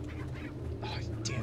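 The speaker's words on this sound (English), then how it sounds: "Oh, damn chicken." Chickens cluck and squawk in Resident Evil 4, a few short calls near the end over a steady low game ambience, with someone talking softly beneath.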